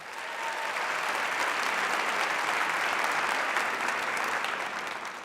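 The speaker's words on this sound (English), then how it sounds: "So a round of applause for all of you." A large crowd at a 2015 graduation celebration applauds the graduates, a thick, even wash of clapping that swells in and holds loud for several seconds.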